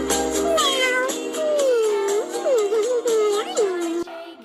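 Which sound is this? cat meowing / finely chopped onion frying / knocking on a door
cat meowing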